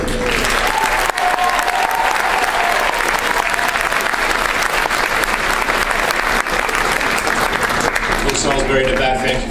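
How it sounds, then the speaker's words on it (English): An audience at a 2019 senior oratorical contest gives loud, continuous applause that fills the hall without letup, and a voice begins speaking just as it fades at the end. "Let's have a round of applause for Ms. Dempsey."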